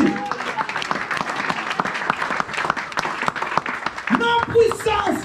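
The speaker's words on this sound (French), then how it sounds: "acclame Jésus" Church congregation applauding during a French-language sermon, a dense steady round of clapping lasting throughout, with a few voices rising briefly near the end.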